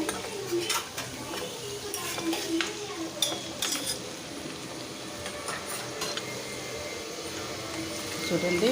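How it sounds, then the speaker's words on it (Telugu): Brinjal pieces fry in plenty of oil in a pan, giving a steady sizzle with occasional utensil scrapes and clinks; a voice speaks briefly. "వంకాయ ముక్కలన్నీ వేసుకొని ఫస్ట్ ఫ్రై చేసుకోవాలి"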